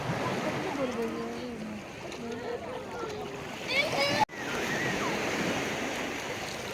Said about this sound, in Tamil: பறந்து விரிஞ்ச கடல்